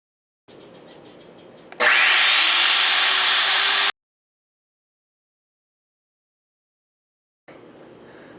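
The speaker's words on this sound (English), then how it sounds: "Using the router makes a quick job of it, you know." A router shapes a piece of purpleheart wood in a workshop: a loud, high whirring cut lasting about two seconds, bracketed by quieter motor spin-up and spin-down hum, with a silent gap before the motor runs again.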